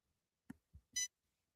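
A faint electronic mode-indicator beep from a device: a couple of soft, low thumps, then a single short, bright beep in otherwise near-silence.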